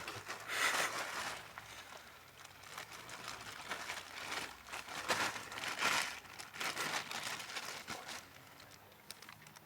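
Plastic bags crinkle and rustle close by during a fishing trip, in irregular bursts of crisp rustling with no voices.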